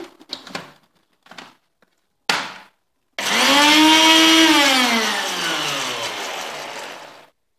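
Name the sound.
blender mixing homemade mayonnaise ingredients with vinegar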